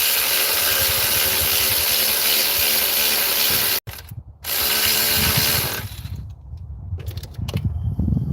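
Ratchet clicks rapidly and steadily up close while a 14 mm bolt is tightened on the belt tensioner of a 2004 Toyota Tacoma. A brief pause interrupts the clicking before a second, looser burst of ratcheting and mechanical rattling. No one talks.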